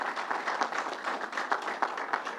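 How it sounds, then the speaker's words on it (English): Audience applause at a briefing at Belmont Racetrack for the New York Islanders hockey team: steady, dense clapping from a crowd, filling the room evenly without pause and fairly close. "let's give them a round of applause"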